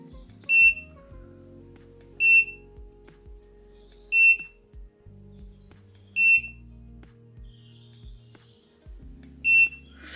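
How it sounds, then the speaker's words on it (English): A Prologic BAT Commander fishing bite alarm gives five short, clear electronic beeps spaced about two seconds apart as its volume setting is stepped, with faint handling clicks between beeps. "to adjust the volume you can press this button and it will beep to indicate the volume"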